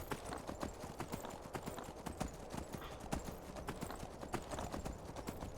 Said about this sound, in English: There's almost always a horse at this corner here.